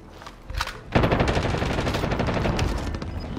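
Video game gunfire bursts into a loud, sustained automatic volley after a brief quieter lead-in, rattling rapidly without pause to the end.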